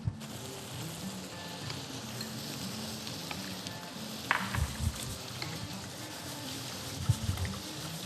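Rice being stirred in a pot on a stove, giving a steady sizzle and soft scraping that run continuously at moderate level, with a few brief knocks near the middle and end.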